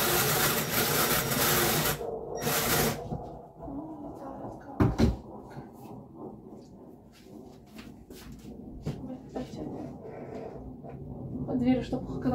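A door being adjusted bangs once, sharply and loudly, among scattered clicks and handling noises, while people talk nearby.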